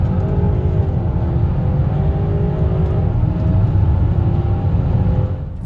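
BMW X5 Lumma CLR X5 RS with four-wheel drive doing a launch-control start, the engine held near 2000 RPM, then roaring hard and loud as it accelerates, with rising engine tones and a gear change midway.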